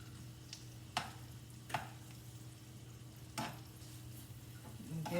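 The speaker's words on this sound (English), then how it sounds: "I'm going to be mixing these and let the onion cook along with the" Onion and basil are stirred in a pan, a faint sizzle underneath with a few sharp scrapes and taps of the utensil against the cookware, close and quiet with no talk.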